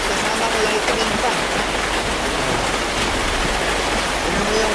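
Heavy rain pours down in a loud, dense, unbroken hiss, drumming steadily on a car while a wiper works, with a voice talking faintly beneath the downpour.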